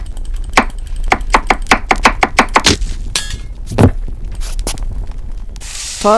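A run of quick, sharp chopping thunks of an onion in the horror video game Cucina Stellata, in a steady rhythm, loud and close, followed by a few scattered knocks and a brief synthetic swoosh at the end.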